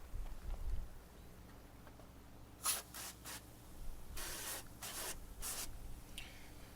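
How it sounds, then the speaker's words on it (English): Short bursts of Scrubbing Bubbles foam cleaner sprayed onto a Corvette engine, several hissing pumps in quick succession, close and moderately faint against a low background hum. "So the rest, we're going to spray on the stuff."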